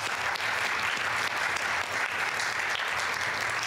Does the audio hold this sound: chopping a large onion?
no